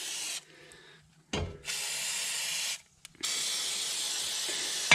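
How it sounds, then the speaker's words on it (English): Fluid Film aerosol rust protectant hisses out in three sustained spray bursts with short pauses between, close and fairly loud, coating a snowblower's metal. "I'm gonna take this fluid film and we're gonna coat all that. We're gonna spray it down pretty liberally."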